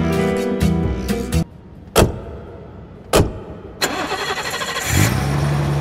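Car engine starting in a staged audio-story scene, with a short cranking burst, a couple of sharp door-like thuds, then the engine catching and settling into a steady idle rumble, close and fairly loud with no talking.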